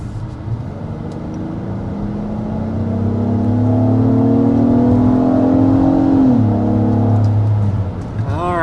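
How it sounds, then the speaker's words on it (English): An Acura MDX with a V6 engine pulls away from a standstill, its engine note rising steadily through a long gear before a shift drops the pitch, heard loud from inside the cabin. "so taking off with this MDX"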